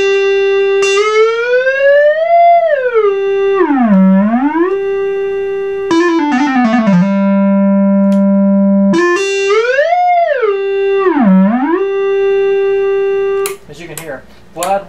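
A single oscillator on a restored Minimoog synthesizer holds a loud, buzzy sustained tone that swoops up and down repeatedly as the pitch wheel is wiggled, dropping to a low held note midway before rising again.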